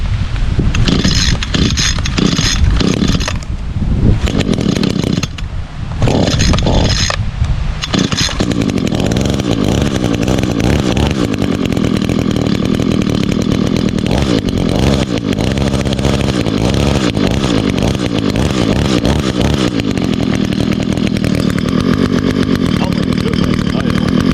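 Gas string trimmer cold-started on choke, sputtering through a few brief bursts before catching and then running loud and steady at close range for a long stretch.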